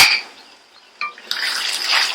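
Water sprinkled into a pan of cooking chicken for a spicy Chicken Chinthamani: a brief splash, then a loud, steady sizzle close by, with no voices.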